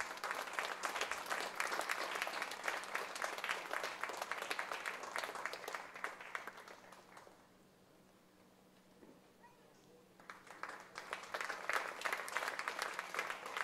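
Audience applause at a charitable institution event honouring dignitaries, sustained crowd clapping heard from some distance that drops away into a quiet gap for a few seconds before swelling again.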